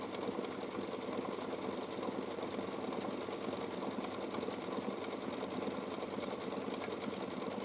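A sewing machine runs a decorative stitch around a quilt block at a busy quilting and sewing shop, its needle chattering in a fast, continuous even whir, close and steady throughout, with no voices.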